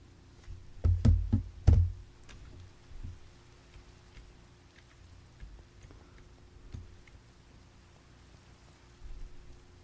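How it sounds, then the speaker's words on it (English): Video game rain falls steadily at night, with a few loud knocks or thuds near the start and soft raindrop ticks scattered across the rest. "Let's get rid of this freaking rain."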